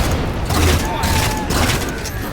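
In the Halo 4 campaign, a railgun fires at Phantom dropships amid heavy combat, heard as a loud, dense barrage of booming blasts with game characters' voices mixed in.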